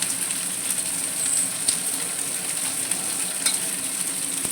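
Small boneless chicken pieces fry in oil in a pan, giving a steady close sizzle with occasional stirring scrapes and small pops throughout.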